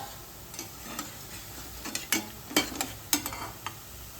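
Golden medu vada frying in hot oil, with a steady soft sizzle broken by several sharp clinks and scrapes of a slotted spoon as the fritters are lifted and drained.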